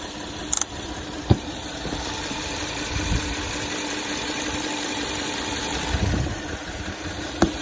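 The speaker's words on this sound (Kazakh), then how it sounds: "Моторы ойдағыдай жасап тұр" A 2014 Hyundai Grandeur HG with a 3-litre petrol engine idles steadily nearby, a low continuous hum with a few brief knocks and clicks, no talking.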